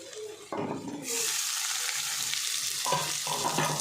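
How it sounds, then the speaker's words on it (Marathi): Finely chopped onion hits hot oil already holding sautéed ginger and garlic, setting off a loud, steady sizzle, with a few stirring scrapes of a spoon in the pan near the start and end. "आता याच्यामध्ये ना बारीक चिरलेला कांदा घालून घेते"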